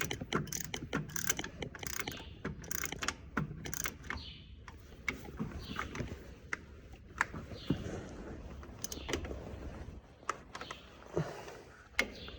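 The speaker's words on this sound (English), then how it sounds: "at least I can get the ratchet onto it, so that does help" A ratchet wrench tightening bolts on the starter of an Allis-Chalmers 7045 tractor, giving rapid, repeated clicking bursts with metallic knocks, close up and fairly quiet.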